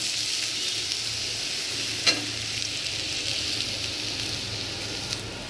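Fish sizzles and fries steadily in a hot pan, a dense continuous hiss with a brief clink of a utensil partway through and no talking.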